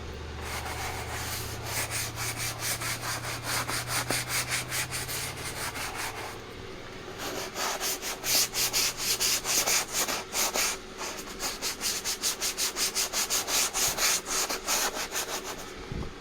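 Steady, rhythmic scrubbing strokes rub over a surface on a Kenworth cabover truck, a continuous close abrasive swishing that runs unbroken for about sixteen seconds.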